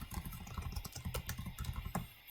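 Quiet, rapid keystrokes on a computer keyboard tap out in a steady irregular patter, close and soft, with no voices.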